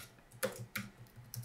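Keystrokes on a new computer keyboard, three separate sharp clicks spaced unevenly across a second and a half, close and fairly quiet over a low hum.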